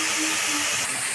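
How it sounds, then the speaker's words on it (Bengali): Onion paste fries in a pan for a chicken curry, giving a steady, close hiss of sizzling oil that runs unbroken for about a second with no voices. "পেঁয়াজটা আমাদের মোটামুটি ভাজা হয়ে গেছে।"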